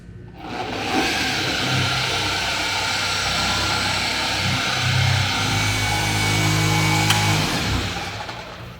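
A polishing machine buffs car paint during ceramic coating prep, its motor droning steadily for the whole stretch and shifting in pitch as the speed setting steps up from 1 toward 3 or 4.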